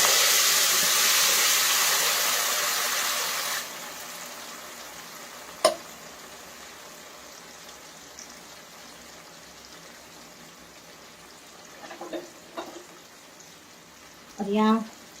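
Tomato paste made from boiled, peeled tomatoes fries in a pan with a loud steady sizzle that drops sharply after a few seconds, leaving a quieter hiss with a few clinks and stirring sounds.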